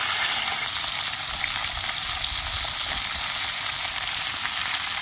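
Chopped vegetables fry in hot oil with a dried red chilli and five-spice tempering: a loud, continuous, close-up sizzle and crackle with no pauses and no talk.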